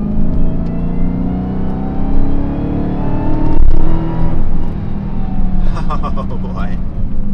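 Dodge Charger Hellcat Redeye with a ZF 8HP90 automatic gearbox pulling hard from inside the cabin, a loud, steady engine drone that rises in pitch through the gears, ending with a few rattling clicks.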